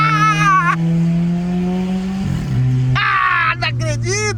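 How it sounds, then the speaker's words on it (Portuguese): A VW Golf 1.6 MSI fitted with an exhaust diffuser revs loudly, its engine note held steady then dropping and rising again in close bursts, while people talk and exclaim over it. "Vou mostrar agora o Golf aí acelerando."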